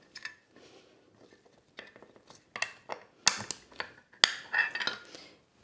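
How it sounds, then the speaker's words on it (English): A plastic comb is set into the grooves of a gel casting tray in a lab and pushed down, giving a few faint light clicks and taps in a quiet room, with two sharper snaps near the end. "To insert your comb, set it in the grooves, push it all the way down, making sure that it is even and completely seated."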